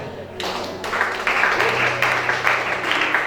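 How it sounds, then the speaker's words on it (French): Church congregation applauding during a worship service, a steady wash of many hands clapping that swells in after a brief quiet start and holds at moderate loudness, with a faint low hum underneath. "Acclame chacun."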